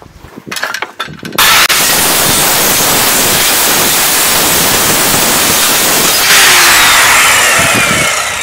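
A loud, harsh, worn-out circular saw whines continuously through wood while cutting masonry formwork wedges, after a few brief knocks, sustained and close for several seconds.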